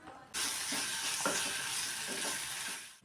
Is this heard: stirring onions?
yes